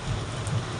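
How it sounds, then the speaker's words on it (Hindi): Steady rain falls in a mountain village in Uttarakhand, a continuous soft hiss of drops with a faint low rumble beneath, even and unbroken, without talk. "बारिश आ गई"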